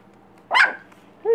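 A three-week-old puppy gives two short, high yappy barks, close and loud against a quiet room, with a brief pause between them.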